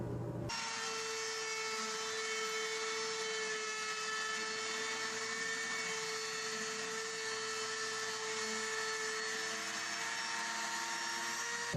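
A router cutting a rabbet along the edge of a maple and jatoba cutting board, a loud continuous high whine that starts abruptly and holds steady, close by and without any talking.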